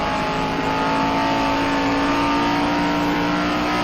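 A V8-powered Cobra race car roars past in a loud, continuous engine howl with a steady, strained rising tone, heard close during a race.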